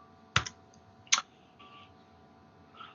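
Keys on a computer keyboard click sparsely in a quiet room, two sharp taps about a second apart followed by fainter soft key sounds.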